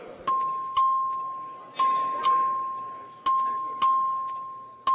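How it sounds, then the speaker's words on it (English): An electronic bell dings in steady pairs, three double strikes spaced evenly, each ringing out and decaying over a faint murmur of background voices. "Clerk will ring the bell."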